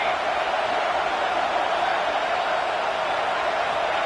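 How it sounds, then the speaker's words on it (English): Football stadium crowd at a USC vs Texas A&M game, a steady, dense roar of many voices held at an even level, filling the space with no breaks or distinct single calls. "This crowd bringing the energy and noise early"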